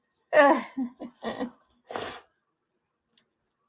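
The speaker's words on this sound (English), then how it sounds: "I'm sorry if you guys hear me sniffling." A person with an upper respiratory infection sniffles and breathes heavily through a congested nose, giving several short, close bursts followed by a brief faint click in an otherwise quiet room.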